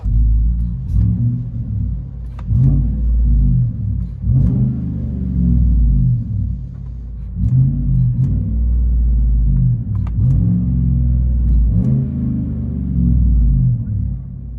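Chevy Silverado LTZ with a 5.3-liter V8 and loud aftermarket exhaust, heard from inside the cab: a steady deep rumble with several rising revs, droning loudly throughout.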